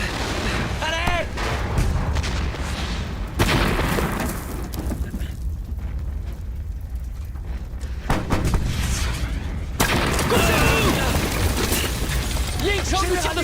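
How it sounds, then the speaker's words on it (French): Heavy gunfire and shell blasts from an armored warship in a French-dubbed action film, loud broadband booms and crackling bursts packed densely across the scene, with a brief lull midway before the barrage resumes. "Ying Chang nous tire dessus depuis un cuirassement"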